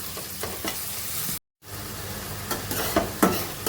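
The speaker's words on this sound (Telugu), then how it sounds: "అవి వేగిపోయి కదా, టమాటా ముక్కలు వేస్తున్నాను." Tomato pieces frying with ginger garlic paste and chillies in a pan, a close sizzle with stirring scrapes, briefly cut to silence before the frying resumes with louder stirring knocks.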